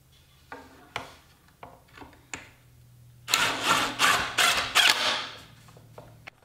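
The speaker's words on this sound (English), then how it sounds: "I'm cutting evenly spaced pockets on the end pieces of the shiplap" Pockets are cut in the end pieces of shiplap boards: several short sharp mechanical bursts, then a louder run of rapid whirring cuts in quick pulses, close by.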